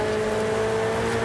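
A Ferrari SF90 Speciale races in Forza Horizon 5, its engine a steady, loud droning whine with a constant pitch over a short stretch, with no voices over it.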